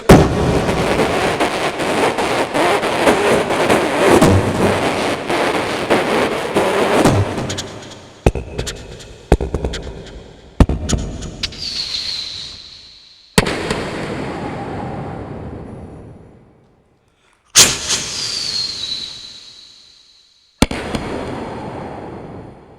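A human voice imitates a Thrissur fireworks display: a dense barrage of crackling, then a series of separate loud bangs, some with rising whistles, each fading out before the next.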